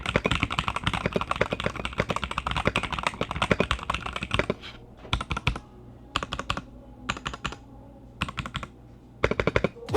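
Someone types rapidly on a Razer Phantom mechanical keyboard with PBT keycaps, producing a dense, crisp clatter of keystrokes up close that breaks into short bursts separated by pauses. No voices are heard.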